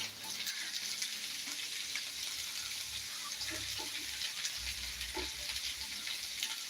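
Okra frying in a pan gives a steady, close sizzle with a constant hiss. A few soft stirring bumps and clatters come through now and then.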